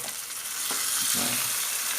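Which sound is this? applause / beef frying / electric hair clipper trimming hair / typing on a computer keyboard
beef frying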